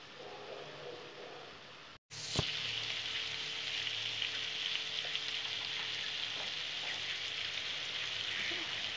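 Soy sauce is poured into half-cooked capsicum frying in a pan for chilli chicken: a steady, close, loud sizzle breaks off for an instant, then surges in a sharp hissing burst and settles into continuous crackling fry with no voices.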